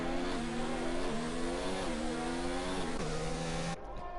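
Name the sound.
McLaren race car engine in a sim racing video game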